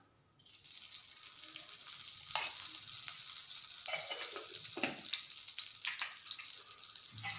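Ghee heats in a pan for frying cashews for pumpkin halwa, a steady close sizzling hiss that starts abruptly and holds evenly, with a few brief crackles.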